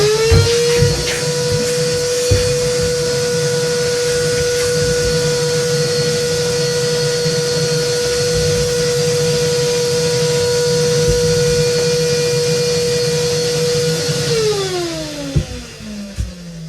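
Workshop dust collection system runs with suction, a steady loud whooshing roar with a sustained whistling tone that holds evenly, then winds down and falls in pitch near the end.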